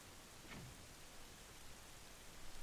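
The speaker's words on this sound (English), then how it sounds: "It'd be a lot easier to see if it weren't raining." Steady rain in The Legend of Zelda: The Wind Waker HD at night on rough seas, a constant hissing wash with no distinct drops, fairly faint and alone.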